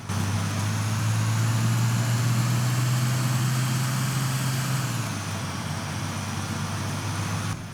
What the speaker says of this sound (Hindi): हम यहाँ से जल्दी से गार्बेज ट्रक लेके अपनी लोकेशन पे पहुंच जाते हैं